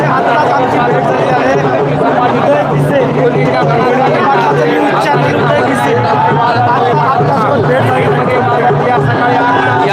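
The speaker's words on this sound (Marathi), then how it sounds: "पुढची समोरील गर्दी प्रचंड गर्दी आहे" Large crowd at a Maratha rally in Dharashiv, a dense constant babble of many voices filling the whole stretch, loud and close with no pauses.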